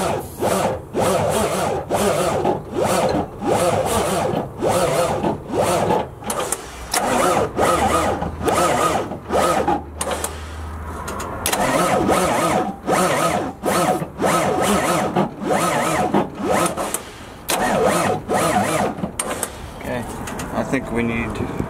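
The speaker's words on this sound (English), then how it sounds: "Well, it started. That's a good sign. We started the Peterbilt." An old, cheap Peterbilt 389 truck with a poorly priming fuel pump cranks over in rapid, loud rhythmic chugs, briefly catches with a low rumble, then cranks again, with people talking over it.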